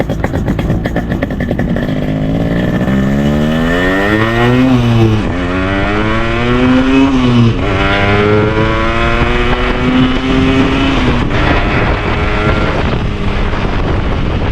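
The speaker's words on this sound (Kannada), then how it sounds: "ಈ ಗಾಡಿ ರೈಡ್ ಮಾಡಿ ತೋರಿಸ್ತೀನಿ ಅಂತ ಬರ್ರಿ." A 15-year-old Yamaha RX100 two-stroke motorcycle being ridden, its engine loud and close as it rises and falls through several revs and gear changes, with heavy wind buffeting over the microphone.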